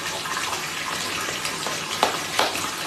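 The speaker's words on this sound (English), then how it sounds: "I have the rain shower part on, which is coming straight down." A rain shower head pours water straight down in a steady, close, full hiss of falling spray, with a couple of brief splashy bursts near the end.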